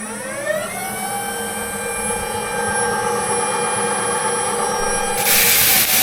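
A battery-powered moss removal weeding machine runs with a steady high-pitched motor whine and layered tonal hum, continuous throughout, with a brief rougher scraping burst near the end.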